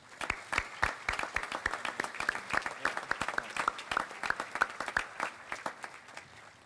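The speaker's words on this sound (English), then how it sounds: "Please give them a round of applause" Scattered applause from a modest crowd at an outdoor public square dedication, individual claps distinct and fairly distant, a loose irregular patter that continues steadily for several seconds.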